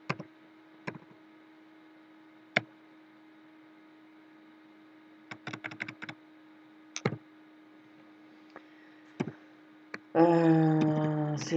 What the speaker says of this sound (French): je vais taper l'adresse qui m'a été donnée